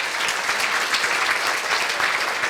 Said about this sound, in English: Let's give them a round of applause as they make their way up